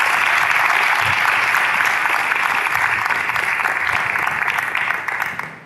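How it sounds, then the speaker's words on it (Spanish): Loud, dense applause from a conference audience fills the room, steady for several seconds before tapering off at the end. "os pido un fuerte aplauso y seguimos hablando."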